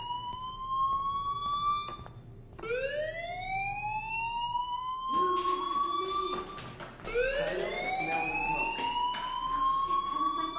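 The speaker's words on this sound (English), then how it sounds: "Hey, do you hear that fire alarm?" Electronic school fire alarm in the game Life is Strange, a loud repeating rising whoop that sweeps upward in long wails, sounding continuously with brief gaps between cycles.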